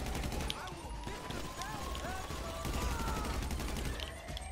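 Gunfire during a GTA 5 heist setup, quick rattling bursts heard at moderate distance under a voice, with occasional whistling tones and background game noise.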